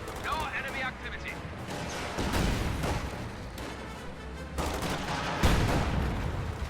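Small arms gunfire in a World War II-style battle game with Panzer Fusiliers, bursts of rifle and machine-gun fire crackling continuously with heavier thumps, under voices calling out.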